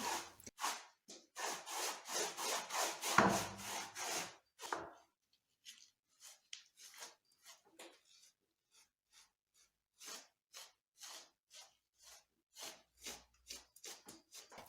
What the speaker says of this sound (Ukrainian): Напрямок мазків роблю вертикальний, бо так вони йдуть по всій стіні.